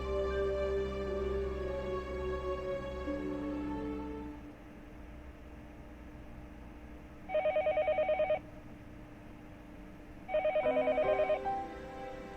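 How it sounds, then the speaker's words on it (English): A telephone in the game Higurashi When They Cry Hou rings in two electronic bursts of rapid trilling, spaced a few seconds apart, as soft background music fades out. "The phone rang noisily downstairs."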